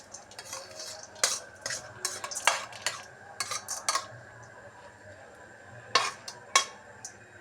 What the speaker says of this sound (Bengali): এবার আমি সবজিগুলোকে একটু ভেজে নেব